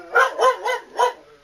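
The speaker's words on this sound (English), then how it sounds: "And Oz is barking." A dog in the video game Disney Dreamlight Valley barks four times in a quick, even rhythm, each bark bright, clear and close, with no other sounds around it.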